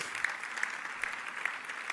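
Steady applause from a crowd, a dense patter of many hands clapping at an even level throughout.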